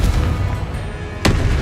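A Confringo fire-blast spell from Hogwarts Legacy bursts once with a sharp, loud boom near the end, over a steady rumbling game background.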